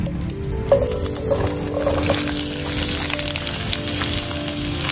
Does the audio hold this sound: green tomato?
yes